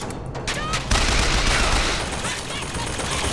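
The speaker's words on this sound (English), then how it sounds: "I'm trying to avoid the machine gun" Machine gun fire in the video game BioShock Infinite, a dense, continuous burst of rapid shots that swells loud and stays heavy, with a voice talking underneath.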